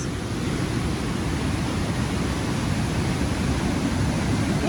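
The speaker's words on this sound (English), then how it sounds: "beautiful roaring waterfall" A roaring waterfall on a dyke walk near Port Alberni, British Columbia, giving a steady, dense rush of falling water that stays constant and fairly loud throughout, with no voices.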